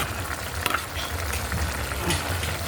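Chicken liver and gizzard adobo ingredients stirred in a hot pan, a steady close sizzle of frying with a few scraping stir strokes, no talk.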